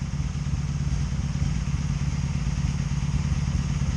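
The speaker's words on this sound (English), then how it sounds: "you're gonna hear it misfiring though" A 2002 Honda Magna VF750C motorcycle engine runs with a misfire, a steady low throbbing idle with uneven clattering pulses, close and fairly loud throughout.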